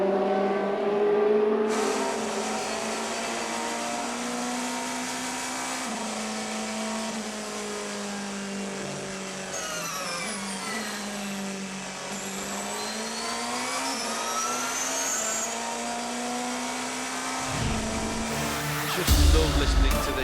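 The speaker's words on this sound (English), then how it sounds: "listening to these engine notes." Race car engines at a 2014 World Endurance Championship race in Bahrain whine at high pitch, rising and falling through gear changes, with a steady roar and a louder burst near the end.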